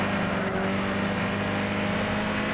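Nissan Zytek LMP2 race car in Gran Turismo 6 at Le Mans, its engine droning steadily and loudly after a downshift, a sustained revving tone with no talk.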